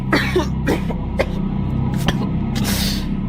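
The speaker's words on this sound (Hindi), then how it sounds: "धुआं इतना अधिक था कि उसे खांसी आने लगी" Someone coughs several times in short, raspy bursts from thick smoke, close by over a low background hum.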